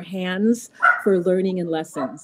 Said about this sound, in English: You may hear some dogs in the background